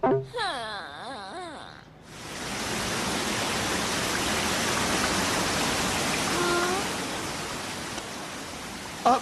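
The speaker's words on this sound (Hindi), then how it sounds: "इस झरने के ठंडे पानी को सर पर गिरने दो" Steady, loud rushing of a waterfall in a Doraemon cartoon, a broad wash of falling water that fills the scene after a brief strained voice at the start.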